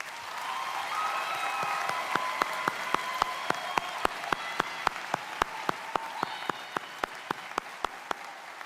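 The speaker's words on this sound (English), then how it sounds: "Please join me in giving our class of 2025 another round of applause" A graduating class is applauded at a college commencement ceremony, with a soft wash of crowd clapping beneath a run of sharp, evenly spaced single claps keeping a steady beat.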